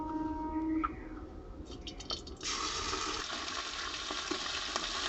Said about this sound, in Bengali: এখন কড়াইতে একটু তেল দিচ্ছি চা চামচের দুই চামচ আদা দিচ্ছি